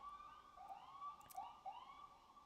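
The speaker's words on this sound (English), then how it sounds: "Sorry about the sirens." A wailing siren rises and falls in repeated sweeps, fairly faint and distant, with no talking.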